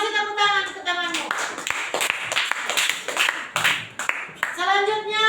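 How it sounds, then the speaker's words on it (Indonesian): Schoolchildren clap together for a classmate in a classroom, a short burst of uneven, close hand claps, with an adult voice speaking just before and just after. "Kasih tepuk tangan ke temanmu."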